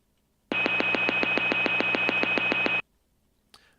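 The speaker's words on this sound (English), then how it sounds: "Clicking on the play button now only plays this little beep." A short electronic beep sample plays back from a software sampler, a steady tone with a rapid regular pulsing for about two seconds, then cuts off cleanly into near silence.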